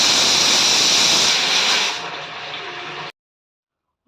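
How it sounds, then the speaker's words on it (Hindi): A pressure cooker cooking dal lets off a loud, steady hiss of steam that fades over a couple of seconds and then cuts off abruptly into silence. "मैंने यहाँ पे कुकर में दाल चढ़ा दिया था, तो दाल भी बन गई है।"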